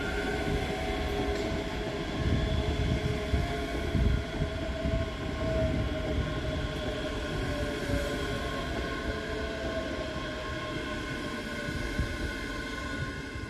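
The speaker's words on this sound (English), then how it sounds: "Coming around the corner is 385032 and 385001, working the 1843 Scotrail service from Glasgow Central to Edinburgh" Scotrail Class 385 electric units 385032 and 385001 pull into Edinburgh Haymarket station, a steady rumble of wheels and motors with tonal whine holding throughout, fairly close and continuous, with no voices.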